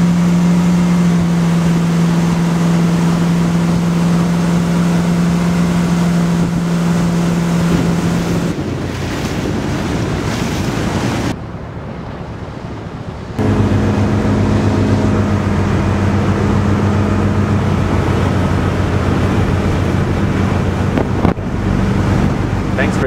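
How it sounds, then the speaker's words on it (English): A 2009 Bayliner 217 deck boat under way on open water, kicking up a wake: a loud, steady motor drone with rushing water and heavy wind buffeting the microphone, dropping briefly before the engine note returns. "This boat kicks up a pretty good wake."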